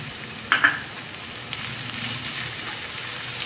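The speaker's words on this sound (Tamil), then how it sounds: "நல்லா வதக்கிக்கோங்க." Capsicum, cabbage and carrot sauté in a hot pan with a steady soft sizzle, and a couple of brief clinks of a utensil stirring near the start.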